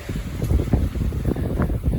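Strong wind and rain buffet the outside of a caravan, producing loud, gusting low rumble and wind noise on the microphone, continuous and close for a couple of seconds.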